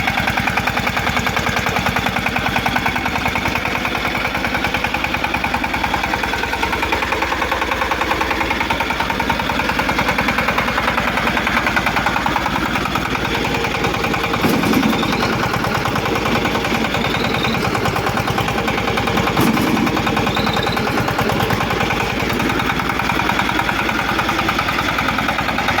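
A small Dinamli 1105 tractor engine runs steadily at idle nearby, a continuous mid-pitched mechanical drone with faint knocking and vibration, with no talk over it for the whole stretch.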